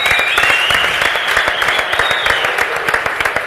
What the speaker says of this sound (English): Just stand up and give a round of applause